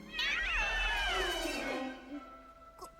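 A single long, drawn-out meow, close and loud, sliding down in pitch before trailing off.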